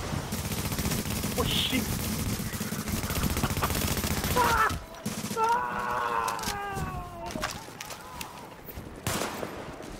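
Gunfire in a video game, rapid bursts hitting a shield, loud and dense for several seconds before breaking off, followed by a few scattered shots and game effects with a voice exclaiming over them.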